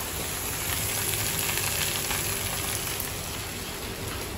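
Rava uttapam topped with onions sizzles steadily on a pan over a very low flame, a continuous even hiss of frying with no breaks.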